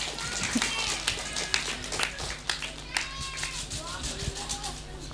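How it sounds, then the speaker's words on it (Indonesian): Children and adults at a Quran school graduation and exam ceremony clap in scattered, sharp bursts, fairly close, amid children's chatter and general room noise. "Tepuk tangan buat Mbak Agnes."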